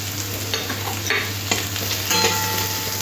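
Potatoes and chopped onion frying in a pan for a prawn and kolmi shak dish, a steady close sizzle with scraping stirs and light spatula clinks, no voices.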